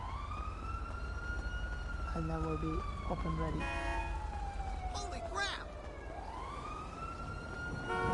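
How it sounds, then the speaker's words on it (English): Wailing police car sirens from the GTA video game, a rising and falling siren sweep running the whole time with yelps and warbles layered over it, loud and close, while someone talks over it. "police cars are on the way"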